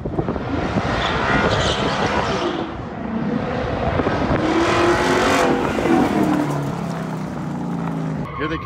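A 2018-2022 Ford Mustang GT does a line lock burnout, its V8 engine roaring loud and close with rising revs and tire squeal, then fading as the car pulls away.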